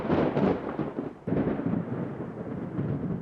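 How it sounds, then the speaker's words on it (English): Deep rolling thunder from a violent thunderstorm, a loud continuous low rumble with a fresh crack and swell midway, heard alone without speech. "There were violent thunderstorms."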